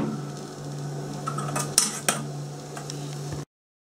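A spoon clinks and scrapes against a pot while onions go into melted margarine for pea soup, a few distinct metallic knocks over a steady low kitchen background.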